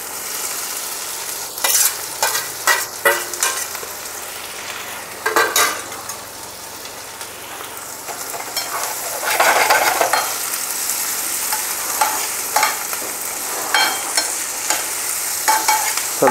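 Mixed vegetables for vermicelli frying in a pan and stirred, a continuous sizzle with bursts of louder scraping strokes scattered throughout, heard close and without speech.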